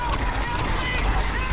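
Dense rapid gunfire from a video game, a loud continuous burst of overlapping shots filling the whole moment, with voices mixed underneath.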